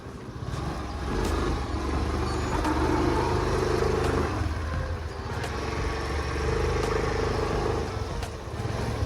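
A Royal Enfield Bullet motorcycle engine rumbles steadily up close, a low, continuous throb that holds even for the whole stretch.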